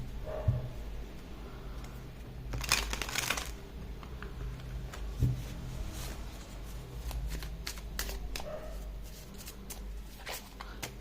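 Tarot cards being shuffled and drawn, with soft riffling bursts and scattered paper flicks and taps at close range, fairly quiet overall, with faint speech in the background.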